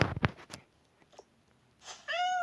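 After a few soft clicks and thumps, a cat in a Toca Boca video game gives a single clear, rising meow at the end, close and fairly quiet.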